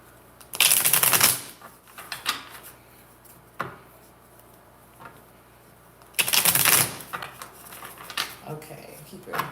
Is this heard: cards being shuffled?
yes